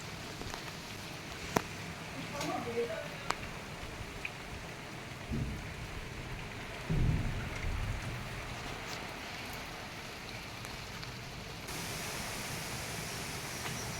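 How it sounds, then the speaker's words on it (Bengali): Heavy monsoon rain pours down steadily under a darkened sky as a storm builds, a constant broadband hiss of drops with a couple of dull low thumps and no voices, heard from near a home kitchen. "ঝড় উঠেছে"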